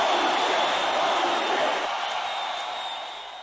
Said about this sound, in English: you hear the crowd with that fecal matter chant